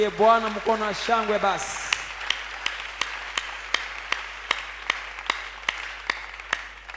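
A church congregation at a Wednesday evening service claps in rhythmic acclamation, steady evenly spaced claps following a brief stretch of speech or singing at the start.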